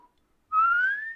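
A single person whistles one rising note alone, lasting under a second after a short silence, clear and close, with a faint second harmonic above it and no talking.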